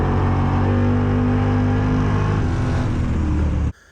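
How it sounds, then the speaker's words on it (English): A car engine boosted with nitrous revs hard and loud in a sustained rising roar, then cuts off abruptly near the end. "You can hear the car, the engine pick up."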